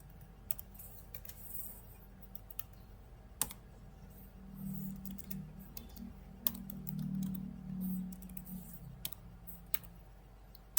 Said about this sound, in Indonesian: Kita ketik perintah ini.